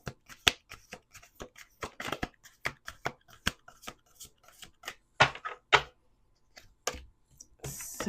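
Cards being shuffled and tapped close up, a steady run of crisp clicks and riffles with brief pauses.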